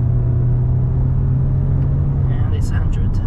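Kia Sportage LX 2.0 diesel AWD under hard acceleration, heard from inside as a steady, loud low engine rumble with road noise.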